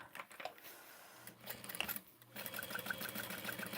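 A sewing machine stitches in short bursts, a soft mechanical whir with rapid needle ticking, fairly close and alone, pausing midway before running again.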